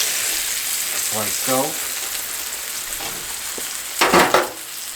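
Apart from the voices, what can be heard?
beef pot roast searing in cast iron skillet, flipped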